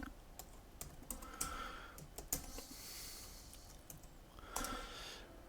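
Keys clattering on a computer keyboard as a command is typed into a terminal while installing Ubuntu 22.04 in Oracle VirtualBox, a quiet, fairly steady run of close taps and clicks with no talking.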